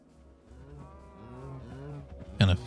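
Cows mooing in the video game Minecraft, several drawn-out low moos overlapping, followed by a short sharp hit near the end, with no talk.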